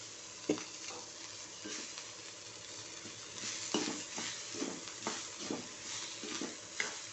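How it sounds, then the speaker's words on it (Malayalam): Onions sautéing in a pan for onion chutney with curry leaves, a steady soft sizzle broken by repeated scraping stirs of a spoon against the pan, close and moderately quiet with no talk. "ഉള്ളി നന്നായിട്ട് വഴന്നു വന്നിട്ടുണ്ട്"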